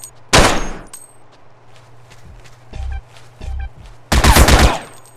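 Gunfire in GTA San Andreas: two loud sharp bursts of shots near the start and end, with quieter thuds and footstep-like impacts between, over a low steady hum.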